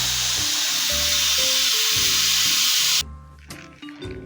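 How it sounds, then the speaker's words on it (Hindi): A pressure cooker of salted onion mutton is opened, loosing a loud, steady hiss of steam for about three seconds that cuts off abruptly, followed by a few light metallic clinks and handling noises up close. "प्रेशर खोल ली"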